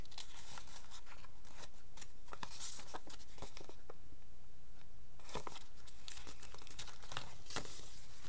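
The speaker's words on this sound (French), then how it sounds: "Elle m'a mis des enveloppes comme ceci, très jolies aussi ces enveloppes" Paper envelopes and pouches being handled close up, with crisp crinkling and rustling bursts, a quieter pause in the middle, then more handling.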